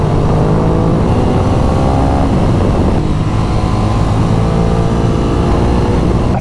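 A motorcycle engine runs steadily and loud throughout, with harmonic tones that rise and fall as the rider changes speed. The bike is an A2-licence-class machine with a firm front brake.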